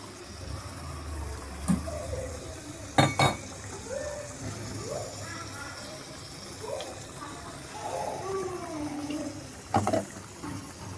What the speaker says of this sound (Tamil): அரைச்சதை இதோட நம்ம ஊற்றிக்கலாம்.